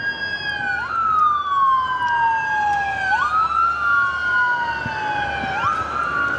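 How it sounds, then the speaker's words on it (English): Ambulance and fire truck sirens wail along Imperial Highway near LAX airport, loud and continuous with overlapping rising and falling tones sweeping up and down over steady traffic rumble. "Ambulance and fire truck going down the Imperial Highway."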